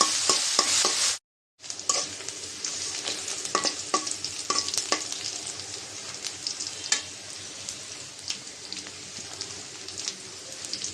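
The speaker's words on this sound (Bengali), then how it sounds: "সব কিছু এখন ভেজে নেব" Onion, garlic and green chili frying in a pan for spicy water spinach, a steady close sizzle with stirring scrapes, briefly cut silent near the start, no talking.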